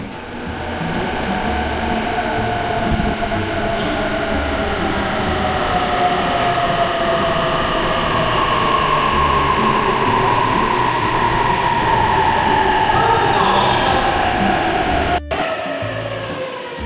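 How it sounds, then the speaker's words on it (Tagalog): Tokyo metro subway train rolling into the platform in winter, a steady loud rumble with rising wheel and motor whine that builds and holds for about seventeen seconds before a brief cut near the end. "So I guess it's the next train."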